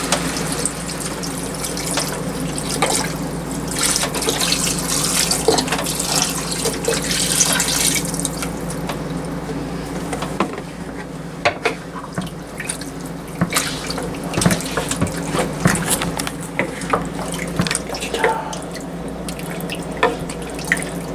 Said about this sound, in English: Then you're going to add either the beef stock or the beef bone broth in this case.